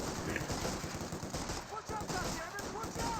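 Rapid MG42 machine gun bursts in a Company of Heroes 2 battle, dense crackling gunfire running continuously alongside other combat noise at moderate loudness.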